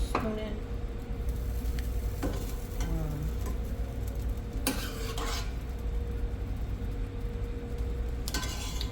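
Beef stroganoff sauce is spooned into a pan of pasta, with clinks of a spoon against cookware and scraping stirs over a low, steady kitchen hum.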